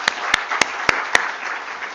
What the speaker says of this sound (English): Why don't we give a round of applause to all of you?